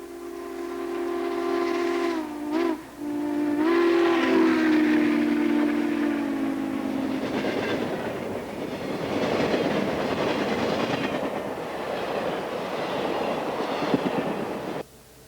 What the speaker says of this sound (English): Here comes that big orange and red passenger train again.